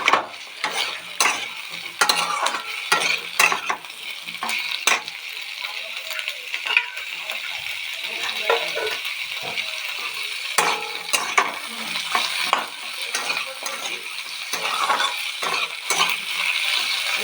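Potatoes frying in a pan with mustard stalks, a steady close sizzle broken by repeated sharp scrapes and clinks of a stirring utensil, with no talking.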